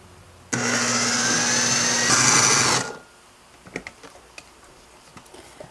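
Hot peppers being minced for pepper jelly in a blender or food chopper, a loud steady whir lasting about two seconds that rises in pitch near the end and then cuts off, followed by faint clicks and taps.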